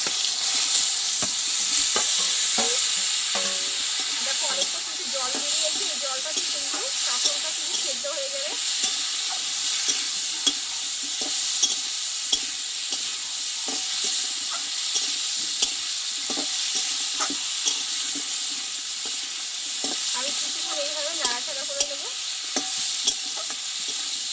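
Spice-coated teasel gourd pieces fry in plenty of oil with a loud, steady, hissing sizzle that continues unbroken, dotted with small pops and the occasional scrape of stirring, close by.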